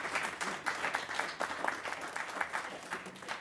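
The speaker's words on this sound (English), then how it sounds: "How about a round of applause for Dwight?" Audience at a chamber ensembles concert applauding, a steady, moderately distant wash of many hands clapping throughout.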